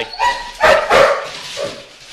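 Dogs bark in a few sharp, close yelps and woofs within about two seconds, loud and indoors, with a short whine at the end.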